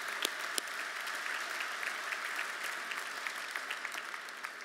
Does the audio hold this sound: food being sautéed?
no